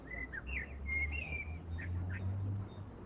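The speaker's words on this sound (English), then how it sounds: "There's a bird just there." Several bright, high chirping phrases from a songbird, fairly near, repeating in short bursts over a low steady background rumble.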